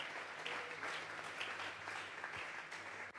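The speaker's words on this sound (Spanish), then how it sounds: "le vamos a regalar ofrenda de palmas al Dios de la gloria" A church congregation at a Tuesday Bible study gives a sustained round of applause, steady dense clapping over a faint low hum, somewhat distant in the room.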